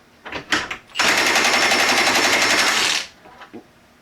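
A Milwaukee Fuel 1/2-inch heavy-duty impact wrench removes a fastener torqued to 100. A few short clicks come first, then a loud, dense hammering rattle lasting about two seconds, close up, before it stops abruptly.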